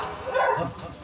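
A human voice imitates a dog's short bark, a single loud yelping burst during a sung Hindi folk narration.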